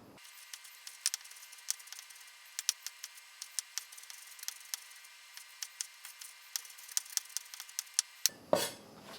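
A knife finely dices chilies on a cutting board, giving a quiet, irregular run of sharp, dry taps and clicks over several seconds, close to the mic, ending in a brief louder clatter.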